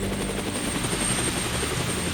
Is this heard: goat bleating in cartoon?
no